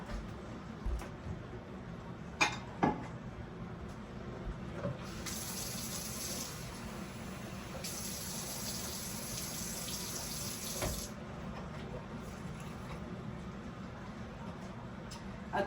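Steady running water from a tap pours into a measuring cup for several seconds, a soft continuous splashing with a few faint clinks.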